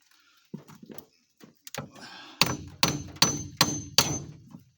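A hammer strikes the wiper arm of a 2006 Chevy Equinox to knock it loose: five loud, sharp metallic blows at a steady, deliberate pace, following a few quieter knocks and scrapes.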